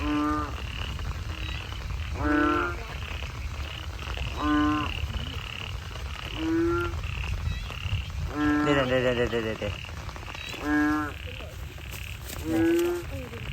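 Frogs croak at night after heavy rain during a frog-catching outing, sounding as repeated loud calls spaced a second or two apart. Low rain or background noise continues underneath, with brief speech.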